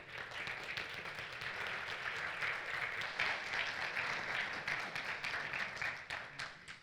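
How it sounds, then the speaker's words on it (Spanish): An audience applauds a speaker after a talk, with a sustained, even wash of clapping that swells slightly and then tapers at the end, heard from a short distance. "Aplauso para Mario."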